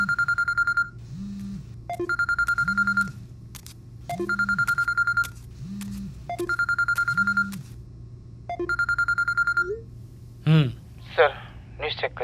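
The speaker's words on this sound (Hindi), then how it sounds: "मिस्टर सिंघानिया के जाने के बाद दूसरे ही दिन मेरा फोन बजा।" A telephone rings in repeated electronic bursts, five evenly spaced rings with short pauses over a low steady hum, followed by a brief pickup sound and faint rustling.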